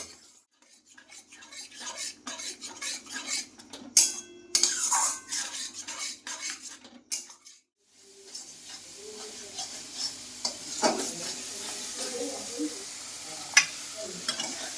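A spiced yogurt paste fries in oil in a pan for a Bengali pointed gourd and prawn curry. A spoon scrapes and stirs in repeated close strokes and clinks against the pan over a soft sizzle, with no talk.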